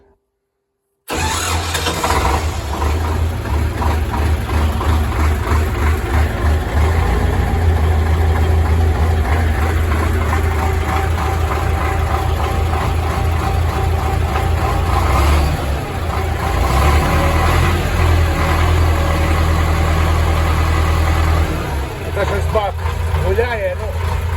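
A YuMZ-6AKL tractor engine cranks and fires after a moment of silence, then settles into a loud, steady diesel run with a deep rumble, heard up close for the rest of the clip.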